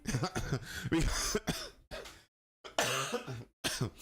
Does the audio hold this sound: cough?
yes